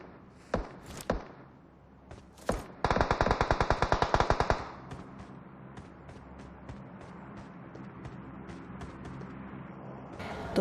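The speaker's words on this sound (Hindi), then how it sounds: "वो भाई साहब मेरे सामने खड़ा होकर गोलियां चला रहा होता है" Gunfire in the mobile shooter Battlegrounds Mobile India: a few loud isolated shots, then a rapid automatic burst of about two seconds, followed by softer, evenly spaced single shots and taps.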